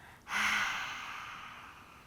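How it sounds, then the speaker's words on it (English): A single forceful, breathy exhale with the tongue out, as in lion's breath during a yoga flow, starting sharply and then trailing off slowly over about two seconds, close and alone. "Exhale, tongue out."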